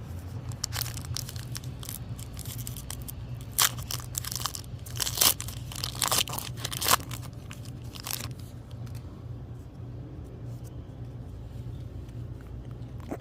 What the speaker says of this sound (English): We're opening up a Temporal Forces booster pack.